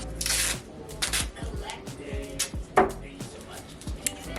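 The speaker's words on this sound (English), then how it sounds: "Let's tape that." Tape being applied during a closet makeover gives ripping and peeling strips close by, followed by a series of quick rustles and taps, over faint background noise.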